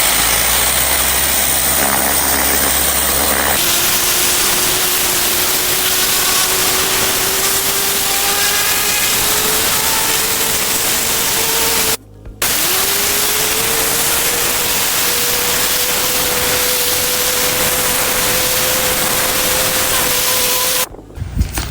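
Gas pressure washer with a turbo nozzle blasting the exterior of a house: a loud, steady roar of rushing spray over a droning engine whose pitch climbs slightly, with two brief cutoffs as the trigger is released.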